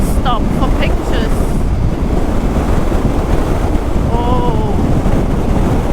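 Heavy wind buffeting a helmet microphone on a motorcycle ride in Spain, a loud, constant rumbling roar that fills the whole stretch, with a brief exclamation from the rider near the start.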